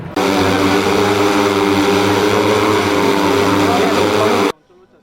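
An agricultural drone flies at a subdivision-level farm machinery fair in Padampur, making a loud, steady propeller whine with a deep hum that holds for about four seconds and then cuts off abruptly.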